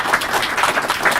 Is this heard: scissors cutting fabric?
no